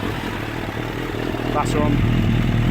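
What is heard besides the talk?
Suzuki Bandit 1200 engine idling, Black Widow exhaust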